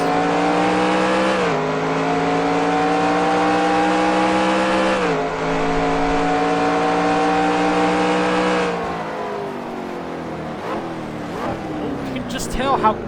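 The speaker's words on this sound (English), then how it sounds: "Just see how they whip those cars through the S's." Race car engines drone loudly through the esses at Sebring in a sim racing sportscar game, a steady high-pitched whine that drops with gear changes, then fades as the cars pull away.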